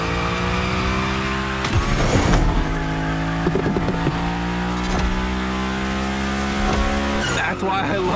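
Engine revving in The Crew Motorfest as a car drifts through a Gymkhana course, tires squealing and skidding in loud sustained bursts. A voice talks over the game sound.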